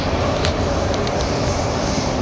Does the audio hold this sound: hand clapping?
no